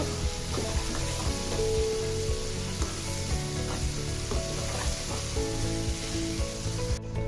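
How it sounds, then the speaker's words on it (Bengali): Onions frying in oil over low heat for hilsa fish dopeyaja, a dense, even sizzle with occasional stirring scrapes, close and steady throughout without talking. "এখন তেলের মধ্যে পেঁয়াজটাকে আমি 2-3 মিনিটের মতো ভেজে নিব।"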